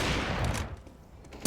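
Rapid gunfire bursts in a Counter-Strike match on the Overpass map during a professional tournament, sharp crackling shots with a final loud crack at the end.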